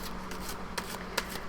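Tarot-size cards being shuffled by hand, a continuous papery riffling with a couple of sharper snaps, close and alone without talking.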